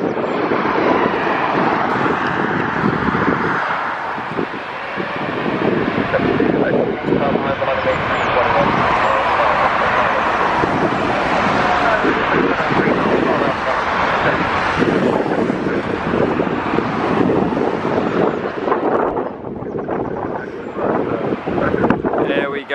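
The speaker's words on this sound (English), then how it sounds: "Here we go with the Nors 787 Dreamliner takeoff." A Norse Atlantic Boeing 787 Dreamliner taking off at London Gatwick in strong wind, its engine roar steady and loud for over twenty seconds, heavily buffeted by gusty wind rumble on the microphone.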